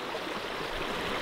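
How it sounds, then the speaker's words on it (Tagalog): Strong river current rushing steadily after a sudden rise in water flowing down from the mountains, a dense broadband roar of moving water close by, continuous with no pauses and no voices. "Biglang lumakas na yung current,"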